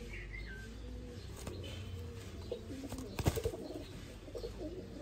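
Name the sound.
pigeon cooing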